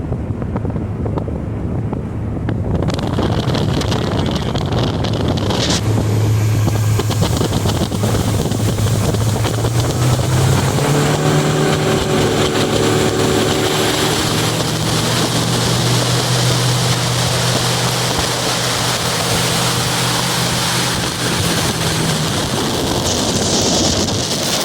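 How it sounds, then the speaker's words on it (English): A Mercury Pro XS 150 outboard on a 2022 Tracker 195 Tournament Edition boat runs under throttle, its engine tone climbing as it revs. Heavy wind roar across the microphone largely buries the motor throughout. "I'll show the motor running under power"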